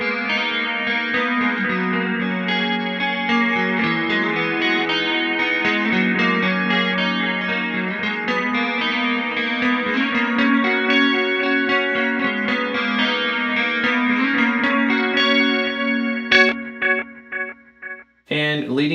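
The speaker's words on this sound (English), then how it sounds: "with some delay on, you can get some really cool sounds with chorus" An electric guitar runs through a pedalboard with delay and chorus, playing sustained shimmering chords and notes with echoing repeats, then trailing off into a few spaced, decaying plucks.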